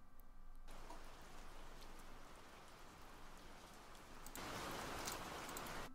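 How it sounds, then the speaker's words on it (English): Steady rain falling on a surface, a dense patter throughout that swells louder near the end, with no voices. "And I've also added some rain sounds."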